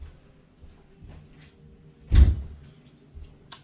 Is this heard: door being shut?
yes